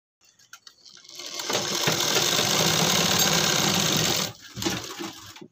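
A sewing machine stitches buckram onto the neckline of a kurti half collar, running steadily and close for about three seconds after a few starting taps, then stopping briefly before a short final burst.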